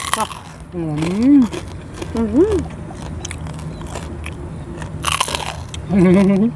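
Crunchy baked pork tail gets bitten and chewed close to the mic, crisp crackling crunches coming in short bursts between stretches of lively talking.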